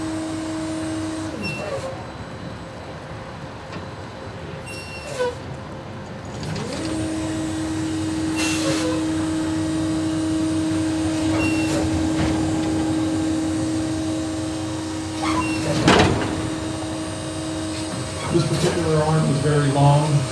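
Quiet electric garbage truck with an automated yellow arm working near by, a low steady electric hum with brief clanks and thumps as the arm grabs a container, and people talking faintly in the background.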